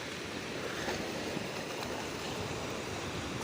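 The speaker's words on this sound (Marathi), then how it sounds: "हे बघा तिकडे लाटा येत आहेत" Sea waves wash onto a Konkan beach near Revdanda fort, making a soft, continuous rushing surf with a breathy, wind-like texture, faint and distant, with no voices.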